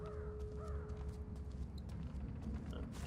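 Crows cawing in the stealth game Thief, a few harsh calls at a moderate distance over a steady low ambient rumble and hum.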